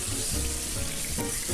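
Chicken skin searing in a hot oiled pan for a chicken steak, a dense, loud, unbroken sizzle lasting only a moment.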